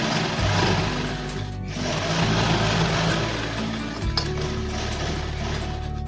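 A sewing machine runs a steady, continuous stitch through folded fabric being hemmed for a drawstring channel, a close mechanical whir with faint clinks and no pauses.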